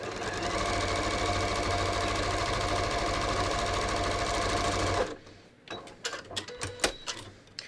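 A sewing machine stitches elastic onto a pants waistband, running in a continuous loud mechanical whir for about five seconds, then stopping, followed by scattered clicks and handling noises up close.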